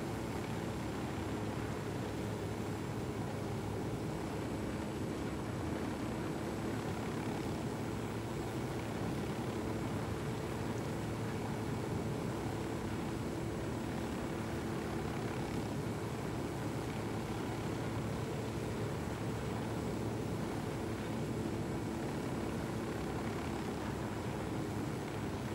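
Helicopter in flight in Ghost Recon, Bolivia, heard from inside: a loud, continuous rotor and engine drone with a steady whine, unbroken throughout and without talk.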